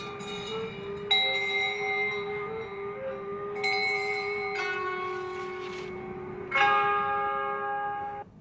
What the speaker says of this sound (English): So this is just the 432 hertz with a few instruments. I think there's a native flute in there.